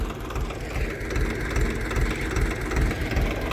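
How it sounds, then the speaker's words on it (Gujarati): A mini tractor runs a rotavator cutter between cotton rows in a field, its engine chugging in a steady, rough low rumble with a slightly pulsing rhythm, close and moderately loud. "આપણે કપાસની અંદર કટર મારી રહ્યા છીએ"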